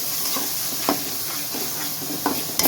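Masala frying in oil while being stirred, with a low continuous sizzle broken by several short spoon scrapes against the pan at uneven intervals.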